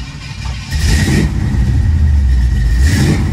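A 1970 Chevrolet Nova V8 catches and runs with a loud, deep, rough rumble that swells briefly as it revs, heard close up with no talk.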